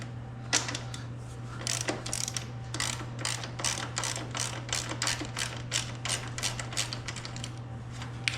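Ratchet wrench clicking steadily as it turns a bolt on a 2016 Honda CRF230F dirt bike, a fast run of close, evenly spaced clicks with a few short pauses, heard over a constant low hum.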